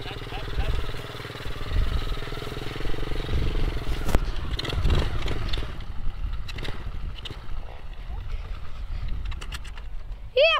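A mini motorbike engine runs steadily throughout, a buzzing drone heard beneath loud, overlapping voices of people talking nearby.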